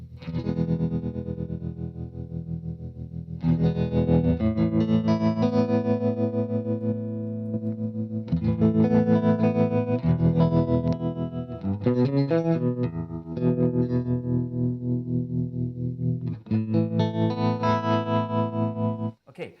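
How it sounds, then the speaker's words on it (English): Electric guitar played through an effects pedal into an all-tube Fender Super Reverb amp, giving distorted, chorus-tinged chords and riffs in steady phrases with brief pauses, loud and close, with no talking. "this is this pedal into my all-tube Super Reverb"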